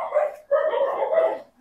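An old dog that has guarded a house for sixteen years barks in two close bursts, a short one and then a longer run of rough, noisy barking, fairly loud and near, with no other sound between.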